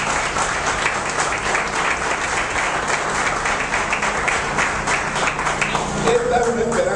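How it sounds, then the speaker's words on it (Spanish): Indoor audience at a political party's local office inauguration breaks into loud, sustained applause, a dense wash of clapping filling the room steadily, with faint crowd murmur beneath. "pido un fuerte aplauso"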